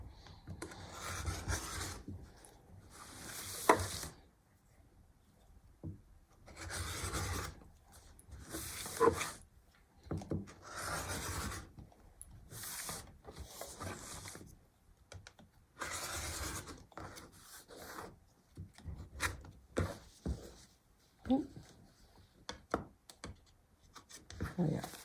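Trimming a fabric improv log cabin hexie quilt block, heard as repeated rasping, scraping cuts in bursts separated by quiet pauses, close and fairly soft, with occasional speech.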